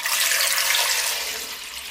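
Cold tap water pours steadily from a kitchen faucet over gnocchi in a pot, a close, loud, continuous hissing splash that eases slightly toward the end, with no talking.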